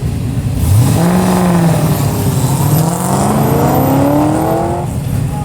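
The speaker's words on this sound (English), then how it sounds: "Up next, Kyle Hansen on the line, 1985 BMW, little 3 Series." A 1985 BMW 3 Series on an autocross run at the Goodguys Spring Nationals in Scottsdale, Arizona: loud engine revving up and down through gear changes, close and continuous.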